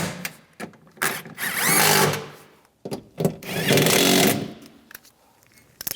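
Cordless power tool driving nuts tight on a 2015-2020 GMC Yukon window regulator, two short whirring bursts that rise and strain, separated by a pause with small clicks.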